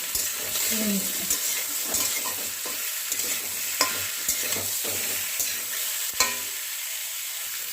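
Radishes stirred and frying in a pan for a Bengali radish ambol give a continuous sizzle with repeated scraping strokes and light clanks of a utensil, close and steady throughout.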